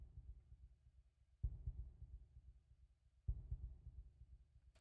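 A low, muffled heartbeat throbbing in the background of the video game Deltarune, faint deep thuds repeating steadily, with two sharper swells in loudness, no voices.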